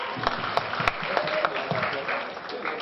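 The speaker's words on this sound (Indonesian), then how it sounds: "TDA Surabaya, tepuk tangan lebih meriah dong." Audience applause at the TDA Surabaya entrepreneurs' festival in Surabaya, a steady wash of many hands with a few sharper claps standing out, under an indistinct voice.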